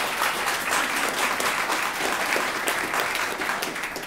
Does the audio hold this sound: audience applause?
yes